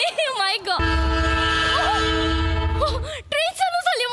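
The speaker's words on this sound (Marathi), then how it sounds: "ट्रेन चालू झाली." A train starts to move off, sounding a long, loud horn blast over a low rumble while people talk excitedly before and after it.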